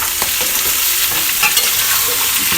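Chicken frying in homemade ghee and mustard oil is stirred steadily in a pan, giving a loud, continuous sizzle with scraping stirs close up and no talking.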